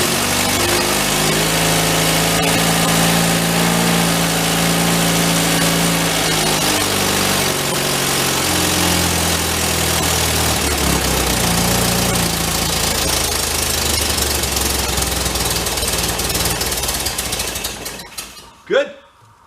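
A 1953 MG TD, a barn find, starts with a loud engine and settles into a rough, steady idle that runs for most of the time, then cuts out near the end with a few short knocks.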